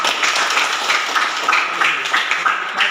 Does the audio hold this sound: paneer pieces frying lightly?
no